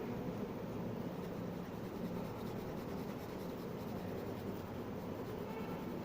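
Pencil shading on paper for an art-and-craft light-and-shade exercise gives a steady, continuous, close scratchy rubbing that holds at an even level throughout with no pauses.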